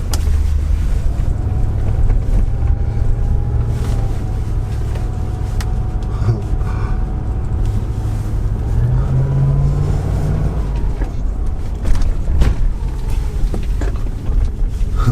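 An old, cheaply bought Range Rover engine runs steadily as the vehicle pulls away, a loud, continuous low rumble with some wind noise and a rising pitch that holds throughout, no talking.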